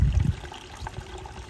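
Water trickles from a spring near a pigsty on a rural smallholding, a faint, steady dribble with a brief louder low rush at the start.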